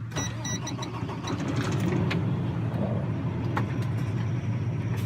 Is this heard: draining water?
no